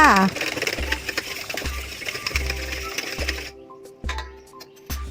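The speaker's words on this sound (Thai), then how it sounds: "แล้วก็ตีไข่แบบนี้เลยค่ะ" Five eggs are beaten with a little light soy sauce in a bowl, producing quick, regular tapping strokes close by that stop briefly and then resume.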